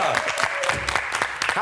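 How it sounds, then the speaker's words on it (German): Studio audience applause at a German TV comedy show, a dense, steady patter of clapping that fills the whole moment, with a voice speaking over it. "Geht das nochmal und Applaus von allen."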